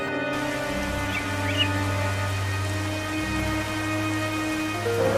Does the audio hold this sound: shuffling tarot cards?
no